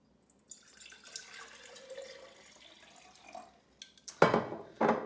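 Plain water splashes and trickles into a container for soaking Peeps marshmallow candies, with soft clinks and two louder pours near the end; no voices.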